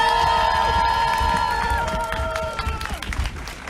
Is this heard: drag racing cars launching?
no